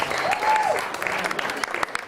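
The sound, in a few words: applause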